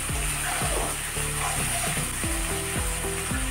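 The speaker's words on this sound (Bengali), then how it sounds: "দুটা টমেটো দিয়ে দেবো, দিয়ে ভালো করে কষে নেব" Tomatoes stir-fried in a hot pan for a raw banana and fish curry, with a steady loud sizzle and repeated scraping strokes of a spatula in a regular rhythm, with no voices.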